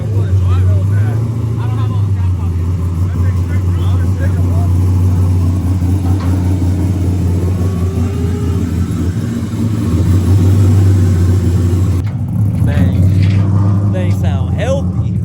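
A drift car's brand-new LS3 V8 runs on a dyno with a loud, deep engine roar that swells and holds, easing briefly before a sharp drop near the end, with voices mixed in.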